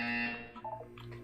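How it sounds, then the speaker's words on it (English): A buzzer tone from the video game Portal 2 sounds for about a second, steady and fairly loud at first, then fading into softer electronic warbles with no one speaking. "You will hear a buzzer."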